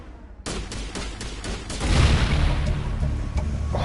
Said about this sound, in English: Alright, firefight it is, let's fucking go! Open fire!